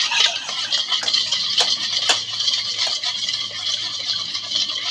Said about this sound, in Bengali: একটা হ্যান্ড উইচের সাহায্যে ডিমগুলোকে ভালো করে মিশিয়ে নিব